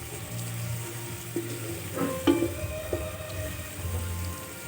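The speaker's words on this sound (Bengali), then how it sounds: "এখন এটা একটু ভালো করে ভাজি করে এর ভিতর চাল দিয়ে দেবো" Onion, garlic and ginger fry together in a pan for pulao, a soft, steady sizzle with occasional light clicks of a utensil and no talking.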